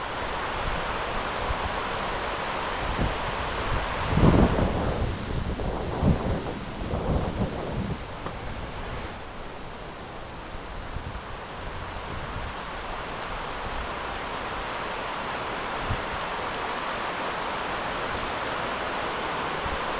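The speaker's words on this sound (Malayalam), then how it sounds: "മുട്ട മഴ" Heavy downpour drumming steadily over a river and sea during a fishing trip, with low thunder rumbling through the first several seconds before the dense, even rain hiss carries on alone.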